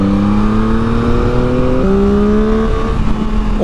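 A reprogrammed Yamaha MT-09 motorcycle accelerates hard, its engine note climbing steadily, dropping briefly at a gear change, then rising again; loud and close, with no talking.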